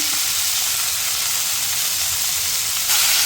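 Loud, steady sizzle of vegetables with turmeric powder, chili powder and salt frying in a pan, a dense continuous hiss close up with no talk.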